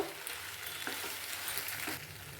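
Spicy street-style macaroni with Maggi masala being stirred in a hot pan, a steady loud sizzle of frying with a few soft scraping strokes of the spoon, no voices.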